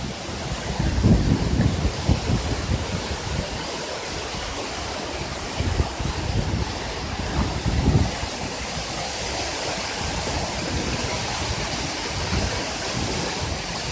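Inside the Big Four Ice Caves, meltwater pours and splashes in a steady, roaring wash, loud and close, with dripping and wind-like rushing blended throughout.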